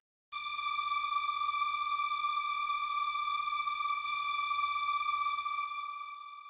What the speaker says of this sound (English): Moving on to the strings,